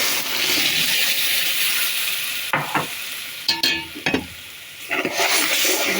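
Tomatoes go into a hot pan with spinach cooking, giving a bright continuous sizzle followed by several stirring scrapes and clatters, close and fairly loud, with no talk.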